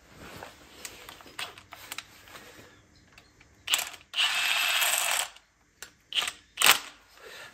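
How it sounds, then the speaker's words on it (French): A screw is tightened by hand into a Mini Cooper S engine during reassembly: short clicking ratchet bursts, one sustained whirring spell in the middle, then a few sharp separate clicks, close and quiet. "je vais mettre ma vis au milieu. Je vais la serrer."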